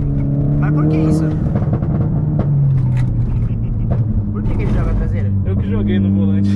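Mitsubishi Lancer Evolution X engine roaring loudly through its gears on a São Paulo expressway, a steady close drone rising in pitch, heard from inside the car under continuous excited talk.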